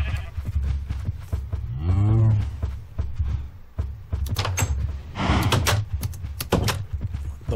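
A cow in the Minecraft video game lets out a drawn-out moo in the middle, surrounded by repeated clicks, thumps and other game sounds.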